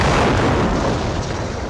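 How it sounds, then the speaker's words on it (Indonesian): A loud, heavy landmine explosion boom in a film, with a broad rumbling roar that fills the whole moment, deep and close. "Sakov pun berlari, akan tetapi sialnya Sakov tewas terkena ledakan sebuah ranjau."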